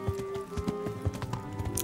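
Horse hooves clip-clop steadily on the ground in the medieval video game Kingdom Come: Deliverance, a brisk rhythmic trot under a sustained game soundtrack drone.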